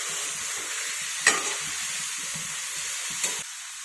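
Ridge gourd with turmeric sautéing in a pan: a constant hissing sizzle runs throughout, broken by two brief scraping stirs of the spatula, close and clear with no talking.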